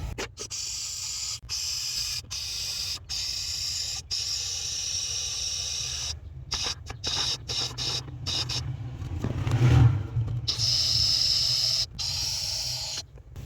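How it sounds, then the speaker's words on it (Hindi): AC cleaner foam spray forced through a pipe into a car's dashboard vent, a steady close hiss running throughout with brief interruptions and a surge in intensity near the end. "हम इस पाइप को घुसा के इसके अंदर फोम भर देंगे।"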